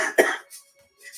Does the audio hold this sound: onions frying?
no